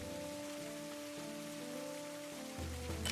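Steady rain falling in Florida, a soft, even hiss of drops on a surface, faint and continuous, with a low steady hum underneath and no voices.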